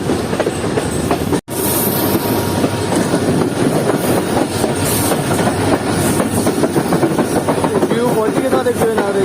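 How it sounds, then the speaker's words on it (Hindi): A train rolls through a railway station in Pakistan, with loud, steady clickety-clack of wheels over rail joints and a rumbling engine continuing throughout, with someone talking over it. "और डाउन में इस पर हमारे पास ट्रेन आ रही है।"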